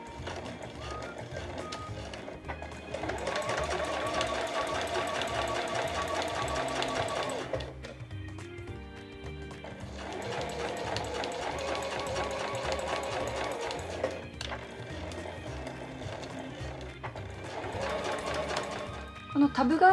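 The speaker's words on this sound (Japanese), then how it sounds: "このタブがついているところ、レースタブがついているところは返し縫いをしていきましょう" Sewing machine backstitching a lace tab onto fabric for a round frilled drawstring pouch, running in three long steady bursts of rapid stitching separated by brief pauses, close and fairly loud.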